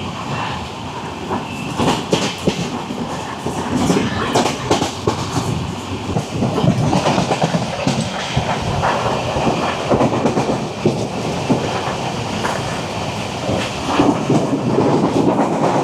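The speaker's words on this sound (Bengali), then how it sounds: "আমাদের ট্রেন পার করছে ডানকুনি" The Sealdah–New Delhi Rajdhani Express runs at speed near Dankuni, heard from on board as a loud, continuous rumble with rhythmic clickety-clack of wheels over rail joints throughout.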